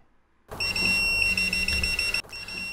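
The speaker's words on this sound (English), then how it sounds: "When using both test tips, Pan All Rounder is a continuity tester and a voltage tester." A PAN Allrounder 200AD continuity tester gives a loud, steady electronic beep that holds for nearly two seconds, cuts out briefly, then sounds again, with no talking.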